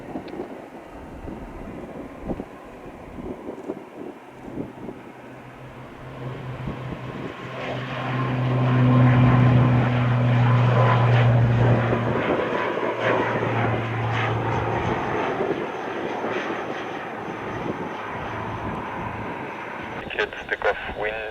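Azul ATR72 turboprop engines at Toulouse Blagnac Airport, a broad steady roar with a tonal drone that swells in the middle and then holds. Radio talk plays over it.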